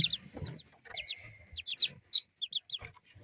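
A brooding hen clucks softly and repeatedly, close by, mixed with high, rapid peeping chirps from newly hatching chicks.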